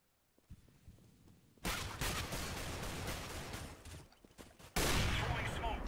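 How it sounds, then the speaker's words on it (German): Gunfire in Counter-Strike: Global Offensive, a quiet lead-in followed by loud sustained automatic shooting that breaks off briefly and then resumes in a fresh burst. "wir schießen auf alles, was sich bewegt"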